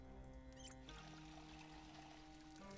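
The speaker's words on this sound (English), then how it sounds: "So we're going to fill the water bottle." A water bottle fills in a video game, a soft pouring trickle heard faintly over steady game music with sustained tones.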